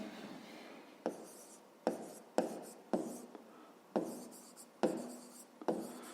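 A pen writing on paper during a fifth-grade math lesson: repeated scratchy strokes in short bursts with brief pauses, close and fairly quiet, with no talking.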